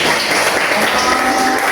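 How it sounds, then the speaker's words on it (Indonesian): A group of people, apparently a class, claps hands together in a dense, steady, loud burst of applause that fills the whole short moment. "Tepuk tangan."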